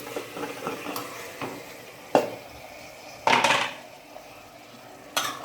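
Marinated mutton stirred into masala in a pot for smoked dum biryani, with a few sharp scraping clanks of a spoon against the pot between quieter stirring and faint sizzle.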